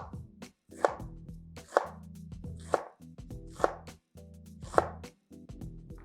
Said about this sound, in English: Chop up any chunks that may be long from the end, and you're good to go. Boom, diced onions.